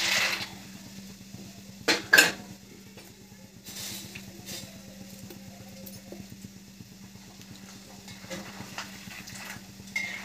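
Peanuts fry in oil for a puffed rice chivda with corn papad, a low steady bubbling sizzle broken by a few sharp clinks and stirs, with no voices.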